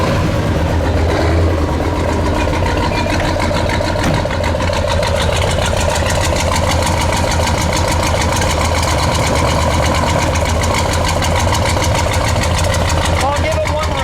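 A 1970 Oldsmobile 442 W-30 convertible's 455 V8 idles steadily and loudly, a deep, even rumble that holds for the whole stretch without a clear rev.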